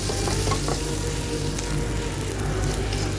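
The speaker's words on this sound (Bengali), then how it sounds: "কাঁচামরিচ, রসুন, তারপরে হচ্ছে পেঁয়াজ কুচি, এগুলো হালকা করে ভেজে নিতেছি" Green chilies, garlic and chopped onion fry lightly in a pan for a tomato and eggplant mash, a continuous close, loud sizzle with occasional stirring clicks and no talking.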